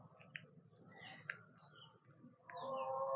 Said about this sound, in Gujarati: પક્ષીઓનો પણ કલરવનો અવાજ